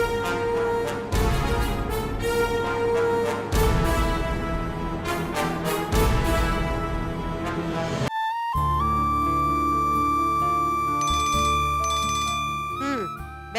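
An electronic phone ringtone plays a repeating melodic chime that sounds loud and close, then switches to a different tone partway through.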